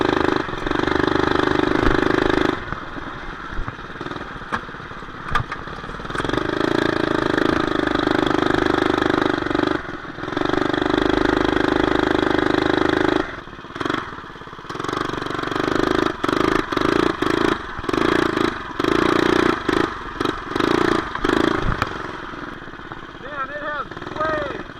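A mini bike with a modified 212 engine idles with a steady mid-pitched drone, drops out briefly, then returns with choppy revving bursts near the end, while someone talks at times.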